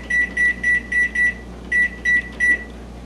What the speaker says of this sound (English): make sure you set the timer for 20 minutes.